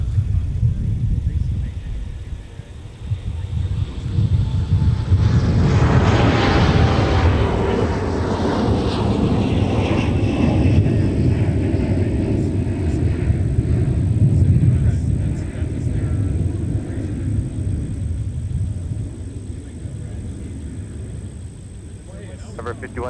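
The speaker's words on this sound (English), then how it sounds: "One of the many CRJ 900s departing Minneapolis" A Delta Connection CRJ900 regional jet departs Minneapolis–Saint Paul airport, its engine roar building to a loud peak and then slowly fading into a distant rumble as it climbs away, with a voice talking beneath the noise.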